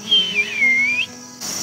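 A little whistle used to call pet cats sounds a short, clear high-pitched tone that dips and rises, followed by quiet background.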